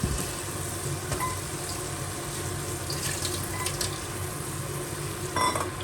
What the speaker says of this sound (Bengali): এই যে আমি মাংসটা এখানে কষাচ্ছি, মানে মশলাটা কষাচ্ছি আর কি